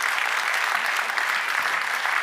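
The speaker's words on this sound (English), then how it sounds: "A big round of applause here." Audience at the Time To Decide Europe Summit 2025 giving a round of applause, dense steady clapping filling the room throughout.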